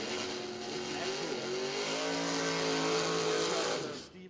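Drag racing car at the track, a Vega making a run, its engine revving and droning at moderate distance with rising tones before cutting off near the end.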